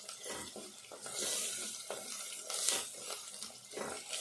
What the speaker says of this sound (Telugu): మంచిగా ఇట్లా ఫ్రై కావాలి. ఈ అల్లం వెల్లుల్లి పేస్ట్ కూడా